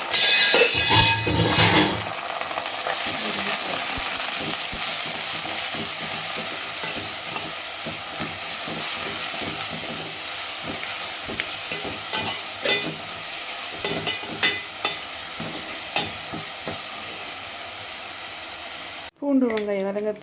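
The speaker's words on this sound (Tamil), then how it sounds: "நம்ம அரைச்சி வச்சு பூண்டு வெங்காயத்தை சேர்த்துக்கலாங்க" Ground garlic, onion and curry leaves fry in oil for a drumstick kara kuzhambu, a loud steady sizzle with repeated scraping stirs and occasional clinks, ending abruptly in a burst of sputtering.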